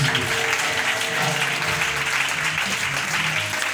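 A church congregation applauding in acclaim of Jesus, steady, dense clapping from many hands filling the room at a constant level throughout, with low voices faintly underneath.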